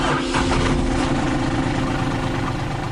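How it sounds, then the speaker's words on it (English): A car engine running steadily just after starting, a low, loud rumbling idle throughout, close by with no talk. "It caught and roared."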